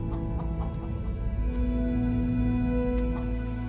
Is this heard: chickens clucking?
yes